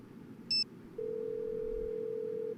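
In the video game Nancy Drew: Alibi in Ashes, a short burst of keypad dialing tones is followed by a long, steady ringback tone that holds for over a second, clean and alone.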